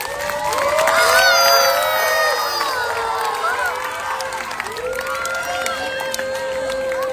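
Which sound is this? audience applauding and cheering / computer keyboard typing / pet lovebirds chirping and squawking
audience applauding and cheering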